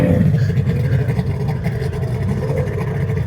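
A sputtering engine revving with a rough, uneven misfire, steady and close throughout, with a low broadband rumble.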